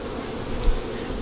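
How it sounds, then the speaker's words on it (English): Honey bees buzzing during a hive transfer from a nuc, a steady close drone of agitated wings that swells briefly in the middle. "Little bee is getting a little bit excited."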